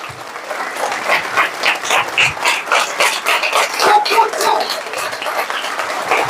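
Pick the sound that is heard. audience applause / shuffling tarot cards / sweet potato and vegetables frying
audience applause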